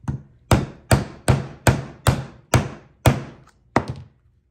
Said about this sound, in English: we're gonna set our copper rivet. This is the number 1 copper rivet setter.